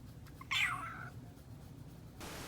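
A cat named Meatball gives one clear, rising-and-falling meow at close range over a quiet low hum. A faint hiss follows near the end.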